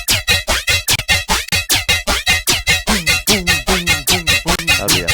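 Scratchy synthesizer patch made in Serum for a big room track, a fast run of short, loud, bright stabs in an even rhythm that turns buzzier and more gritty partway through.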